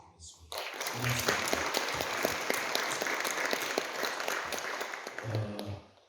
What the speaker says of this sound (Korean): 여러분 격려의 박수를 좀 부탁드리겠습니다